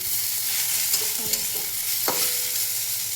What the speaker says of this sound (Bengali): ভেন্ডি ভাজাটাও নামিয়ে দেবো